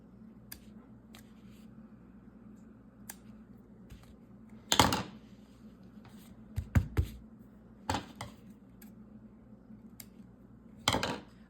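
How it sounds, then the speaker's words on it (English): Scissors snip trimmed yarn knot ends on the back of a beginner's weaving, a few sharp, quiet clicks scattered among soft handling rustles in a very still room. "I've clipped all of the little knot ends"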